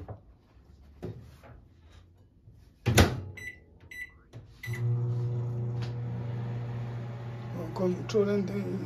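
A microwave oven hums steadily while softening hard butter for a cassava and coconut pone, starting after door clatter and beeps, with kitchen handling noises and speech nearby.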